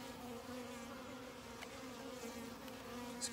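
Dense buzzing of many honey bees crowding a comb lifted from a top bar hive in midsummer, a steady close drone with no voices over it.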